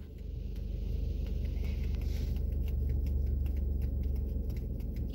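Rain patters steadily on a Mini Cooper parked at a supermarket in Austria, a dense, even hiss of drops over a low, constant rumble, with no voices.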